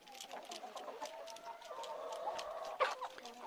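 A young rooster and a hen cluck and squawk agitatedly at close range as they fight, with a sharper squawk near the end.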